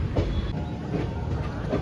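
The Simhadri Express between Guntur and Visakhapatnam rolls along with a steady rumble and rhythmic clickety-clack of wheels over rail joints, heard from inside the moving train.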